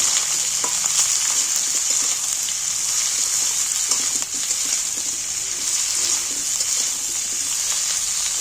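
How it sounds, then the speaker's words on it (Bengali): Onions frying in a pan of hot oil after potatoes, a steady broadband sizzle with faint stirring clinks running the whole time, close and fairly loud, no voices. "পেঁয়াজ দুটো তুলে দিচ্ছি এর মধ্যে পেঁয়াজগুলো একটু ভেজে নিচ্ছি"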